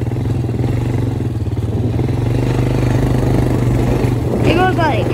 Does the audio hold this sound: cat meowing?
no